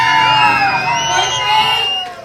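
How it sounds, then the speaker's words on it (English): Third grade children at a school flagpole dedication ceremony cheer, whoop and scream together in a loud, sustained burst of crowd noise with high-pitched shouting. "So, third graders, make some noise."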